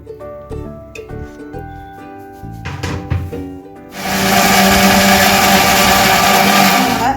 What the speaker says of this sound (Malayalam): ഈ കട്ട് ചെയ്ത് നമ്മൾ മിക്സിയുടെ ജാറിൽ ഇട്ട് നമുക്കൊന്ന് അടിച്ചെടുക്കാം